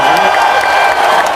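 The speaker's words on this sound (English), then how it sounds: "Big round of applause, Jacob." A school celebration assembly breaks into a short burst of dense, steady applause from a large crowd of children, loud and close, with a few faint cheers mixed in.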